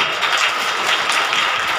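A church congregation claps in unison, giving a loud, dense wash of hand claps that stays steady and close with no gaps or pauses.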